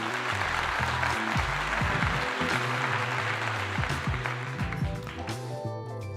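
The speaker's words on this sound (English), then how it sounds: "Next round of applause, people." Crowd applause as a dense, steady wash of clapping that runs throughout, mixed with low music tones and eases slightly near the end.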